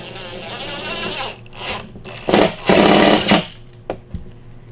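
Self-drilling drywall anchor screwed into a hot-mud drywall repair, a power driver whirring in bursts with grinding bites into hardened joint compound, alone at close range with short pauses.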